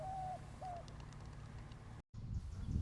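A wild dove coos in the open outdoors, two soft hooting notes near the start over a low ambient hum, followed by faint rustling and a brief dropout.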